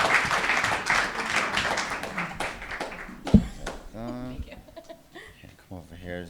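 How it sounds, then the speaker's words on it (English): An audience at an accelerator final presentation event claps in a burst of applause that fades after a few seconds, followed by a loud thump and people talking nearby. "Round of applause."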